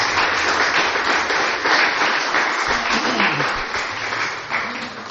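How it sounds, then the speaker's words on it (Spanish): Worshippers at a church service break into lively applause, a full, continuous patter of many hands that swells slightly and tapers near the end, with faint crowd murmur underneath. "Démosle un aplauso a Jesús."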